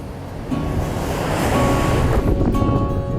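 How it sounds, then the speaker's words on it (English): Strong wind sweeping a seaside cliff near a small cave, a loud, continuous roar buffeting the microphone, rising slightly partway through, with no talking. "It's a super windy day today"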